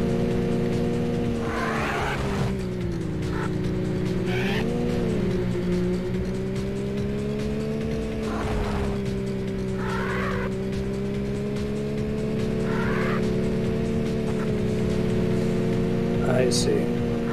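Racing cars in the Need for Speed video game, with a steady droning engine note that shifts pitch and several short bursts of tire squeal, close and continuous under light game sound.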